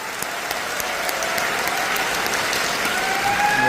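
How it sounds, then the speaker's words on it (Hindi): Steady, loud applause from an audience at an anniversary event, a dense continuous clapping that fills the whole moment. "और एक बार ताली अपने लिए बजा लीजिए"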